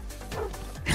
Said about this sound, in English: No, no, no, bad doggy